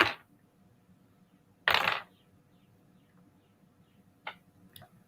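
Dice rolled for a tabletop game: a sharp clatter at the start and another about two seconds in, then a couple of small ticks as dice settle, all close and with no talking.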